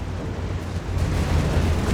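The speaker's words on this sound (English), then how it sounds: "Mortar firing down death here." Mortar fire in Company of Heroes 3 rumbles as a loud, low, sustained barrage of blasts, swelling slightly partway through amid general battlefield noise.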